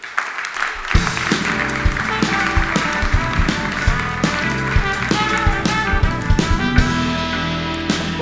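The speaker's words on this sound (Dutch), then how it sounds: "Dames en heren, hartelijk applaus voor Brenno de Winter." A studio audience at a Dutch late-night tech talk show breaks into sustained applause, dense clapping starting sharply after a brief pause and holding steady, close and loud throughout.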